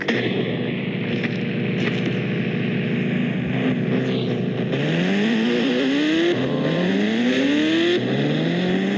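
A Ghost Rider motorbike engine in a video game's zombie mode drones steadily, then revs up through rising gear shifts, loud and continuous throughout.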